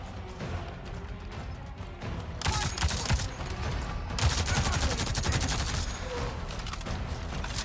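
Video game gunfire in Avatar: Frontiers of Pandora, with a sniper rifle among bursts of crackling, rapid shots that grow louder and denser midway through, sounding fairly close.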